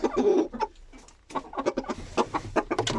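A mother hen and her chick cluck close by in a coop, a quick burst of clucking followed by a run of short, sharp peeps and clucks.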